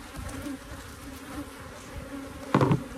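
Honeybees hum steadily around an open beehive during pre-honey-flow hive work, a close, continuous buzzing drone with a brief louder burst of wings near the end.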